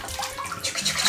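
Water poured over a baby's head to rinse out shampoo during a bath, a steady close splashing and trickling stream that runs continuously for about a second with no talk.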